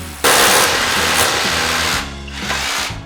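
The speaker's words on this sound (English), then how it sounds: "the second we started drilling in these massive bolts" Power drill driving massive bolts into a plaster wall over metal bead, loud and close, the motor whining steadily with a brief dip and change in pitch partway through.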